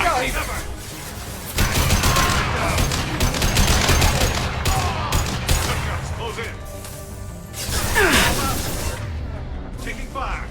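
Heavy gunfire rattles through a Mass Effect 2 battle, dense bursts of automatic fire and booms going on and off over several seconds, loud and close, with a voice calling out over it.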